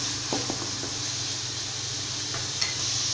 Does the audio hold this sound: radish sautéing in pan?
yes